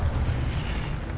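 An Incendio fire spell cast in the Hogwarts Legacy video game: a brief, steady, rumbling roar like a burst of flame, loud and close, heard alone.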